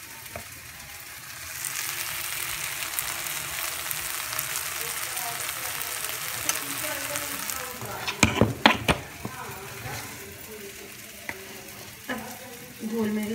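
Ground masala for mushroom masala fries in a pan with a steady, dense sizzle. Several sharp clinks and scrapes of stirring break through in the second half, and a voice is faintly present at times.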